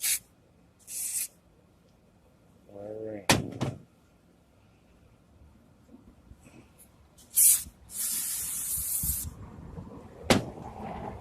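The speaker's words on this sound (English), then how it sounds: "And just spray in all the holes." An aerosol spray is aimed into the holes of a Craftsman part, giving several short hissing bursts between pauses, with a brief spoken remark and some handling clatter nearby.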